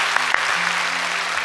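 Church congregation applauding their own members, a steady, dense wash of clapping that fills the whole stretch at close range with no break.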